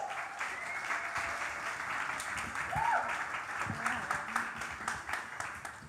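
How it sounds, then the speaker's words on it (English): An evening audience applauds as a featured speaker is welcomed to the stage, a steady wash of moderate clapping with a few brief sounds and murmurs mixed in. "Give her a hearty round of applause for being here tonight."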